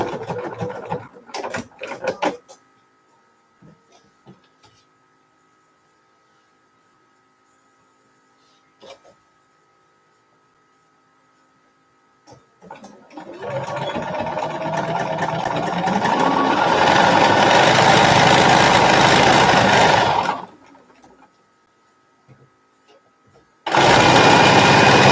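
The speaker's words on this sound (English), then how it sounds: "This is kind of slow sewing. Slow sewing, slow going." A sewing machine stitches a Kaffe half-square-triangle lap quilt: a few scattered clicks, a long quiet gap, then a sustained seven-second run of steady stitching that stops and starts again abruptly at the end.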